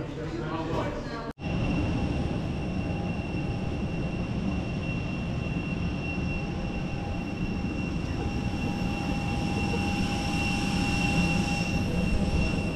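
An airliner cruising from Ljubljana to London Luton fills the cabin with a steady, loud engine drone and a faint high whine after a brief sharp break near the start, continuing evenly to the end.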